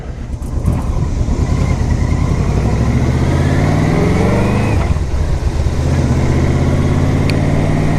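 A 2006 Yamaha Royal Star Deluxe 1300 motorcycle under way, its big engine droning loud and close as it accelerates through a gear change, with wind rush throughout.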